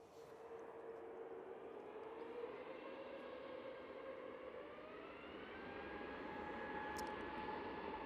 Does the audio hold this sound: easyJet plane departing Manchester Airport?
yes